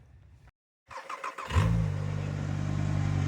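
Rabbit car engine after hydrolock, a short pause followed by starter cranking and the engine catching, then settling into a steady, slightly rough idle nearby.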